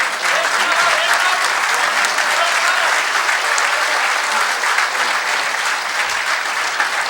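Sustained, loud applause from an audience at a 2004 Urdu poetry mushaira in Houston, dense clapping that fills the hall evenly for several seconds.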